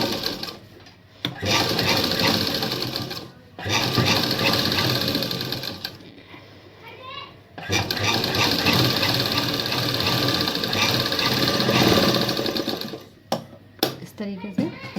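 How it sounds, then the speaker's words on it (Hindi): A sewing machine stitches a hook-and-eye strip in long, loud, continuous runs, pausing briefly between bursts and ending in a few short clicks and stops. "अब यहाँ पे इसको हमें इस तरीके से सिलाई लगानी है"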